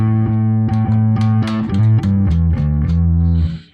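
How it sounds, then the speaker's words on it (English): A bass guitar runs through a Fulltone-style overdrive model on an Axe-Fx III, playing a short line of gritty, distorted notes, loud and alone, with the last note fading out. "it is a full-tone overdrive type model"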